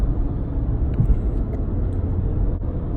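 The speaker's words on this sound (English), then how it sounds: "I am driving right now." Steady low engine and road rumble from inside a moving car, continuous and fairly loud with no speech.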